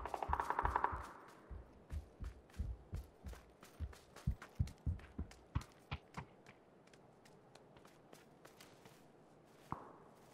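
Video game gunfire crackles in rapid bursts of muffled shots, dense at first and then thinning to scattered single reports, fairly quiet and without talking.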